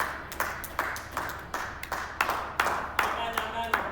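A church congregation claps during a thanksgiving service, with steady rhythmic claps roughly twice per second over a low background hum and faint voices.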